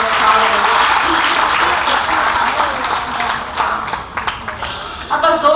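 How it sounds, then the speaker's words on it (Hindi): Audience applause at a Hindi poetry recital after a new ghazal, a dense steady wash of clapping that thins toward the end into scattered individual claps, with some talk mixed in. "तालियां जरा जोरदार बजाइए"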